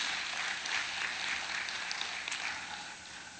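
A church congregation breaks into steady, dense applause that fills the hall at a continuous level, with no voices standing out over the clapping.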